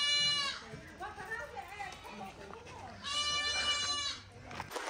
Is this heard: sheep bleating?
yes